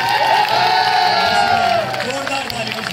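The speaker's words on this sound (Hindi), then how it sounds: "मैं चाहता हूँ सब लोग जोरदार तालियां बजा के" A political rally crowd in Kekri claps and cheers to welcome a visiting Congress leader, loud sustained applause and cheering from a big gathering.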